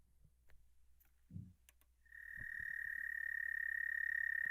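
A frog's recorded call plays as a steady, high-pitched cricket-like trill, starting after a couple of seconds of near silence and a few faint clicks and holding on continuously, quiet but clear.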